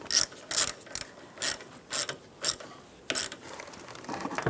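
Ratcheting wrench tightening the negative battery terminal on a 2010-2016 Cadillac SRX, giving several short close bursts of rapid clicking separated by brief pauses, with no talking.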